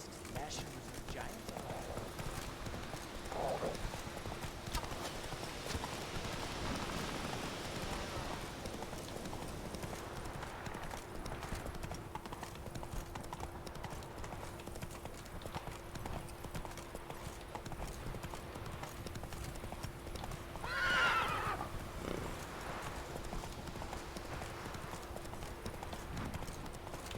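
Hooves of the horse Roach clip-clop in a steady trotting rhythm throughout a ride in The Witcher 3, with a brief whinny and occasional game sounds, while a person talks over it.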